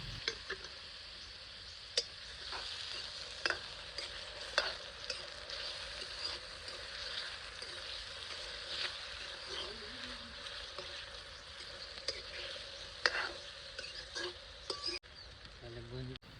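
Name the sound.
tomatoes and green chillies frying and being stirred in pan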